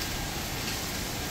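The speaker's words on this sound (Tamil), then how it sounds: "செம்மையா மழை பெய்யுது." Steady rain falls outdoors near a swimming pool in Chennai, a faint, even hiss of drops with no voices and no breaks.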